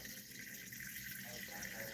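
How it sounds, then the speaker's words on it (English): Water trickles steadily from a pour for a Monocentropus balfouri tarantula, a faint continuous hiss without pauses from start to finish. "Gonna give him some water here."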